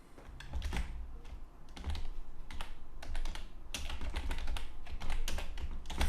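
Typing on a computer keyboard in bursts of quick, close-up key clicks with short pauses in between, steady and clear with no voices over it.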